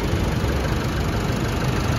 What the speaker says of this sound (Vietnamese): máy nổ thầm thì luôn cho mấy hàng nha